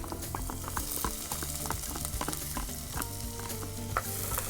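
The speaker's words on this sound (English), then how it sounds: "And gently fry for about 5 minutes." Chopped onion and peppers frying gently in a pan with leftover sausage fat, heard as a steady close sizzle with crackles and occasional stirring clatter, with no talk.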